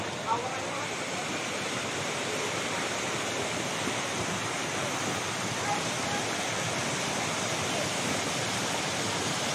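Steady rushing of a flowing river in Goa, Camarines Sur, Philippines, a continuous broad wash of water that stays loud and even throughout.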